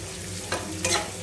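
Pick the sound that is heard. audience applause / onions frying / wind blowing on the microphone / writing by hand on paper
onions frying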